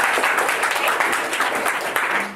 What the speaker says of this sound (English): If you agree, you can clap hands.